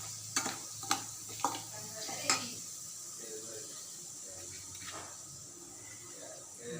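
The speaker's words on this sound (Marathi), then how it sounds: "हिंग टाकून घ्यायचं तिखट नंतर टाकायचं कारण की खूप गरम तेल असतं" Asafoetida sizzles in very hot oil for a raw mango pickle: a few sharp clinks of a utensil at the start, then a soft, steady frying hiss, fairly quiet.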